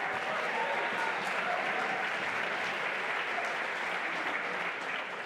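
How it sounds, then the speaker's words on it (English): Steady, sustained applause from a large audience at a Yale University event, continuous and even throughout without any speech over it. "I love the fact that that line still gathers applause."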